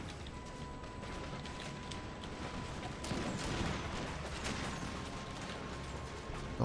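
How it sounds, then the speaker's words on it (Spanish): Musket volleys from infantry troops in the Empire: Total War strategy game crackle as a dense, continuous rattle of shots, swelling louder about halfway through and holding there. "Los disparos supongo que empezarán ya por parte de mis tropas."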